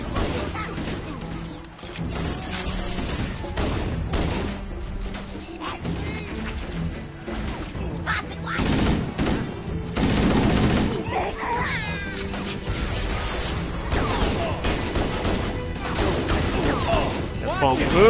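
Grenade explosions and gunfire in Halo CE Anniversary, dense continuous combat with repeated blasts and shots throughout, loud under excited talk.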